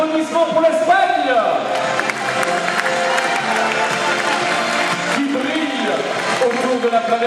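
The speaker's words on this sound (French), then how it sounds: "applaudissements pour l'Espagne" A crowd claps and cheers continuously, loud and dense, with a voice speaking over the noise.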